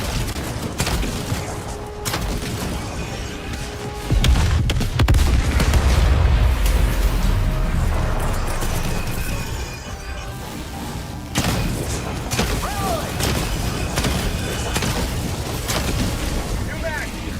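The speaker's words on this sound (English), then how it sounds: "Firing orbital barrage." An orbital barrage in Helldivers 2 rumbles in as heavy, booming explosions, strongest in a deep surge partway through, over ongoing battle noise and voices talking.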